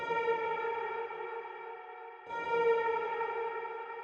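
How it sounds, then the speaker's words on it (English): A sustained electronic synth chord drenched in reverb and delay rings out, cuts off briefly, then returns with its echoing tail, bright harmonic layers over a soft wash, no voices. "hopefully this works with the reverb and delay"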